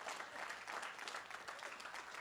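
An audience at a CPAC Wisconsin conservative gathering claps steadily for a couple of seconds, a dense patter of applause that sounds somewhat distant and fairly quiet.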